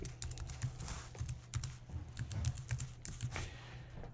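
Rapid keystrokes on a computer keyboard as a password is entered to log into an Azure SQL database query editor, an irregular clatter of close clicks over a steady low electrical hum.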